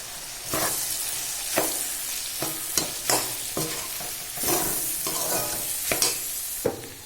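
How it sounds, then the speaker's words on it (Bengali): Potatoes fried in a pan with salt, then a vegetarian dish stirred with poppy seed paste: a steady close sizzle with repeated scraping strokes of a spatula against the pan, no talking. "লবণ দিয়ে কষিয়ে নিয়েছি ভালো করে কষানোর পরে আমি দিয়েছি এখানে পোস্ত বাটা"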